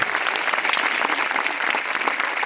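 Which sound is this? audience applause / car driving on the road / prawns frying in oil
audience applause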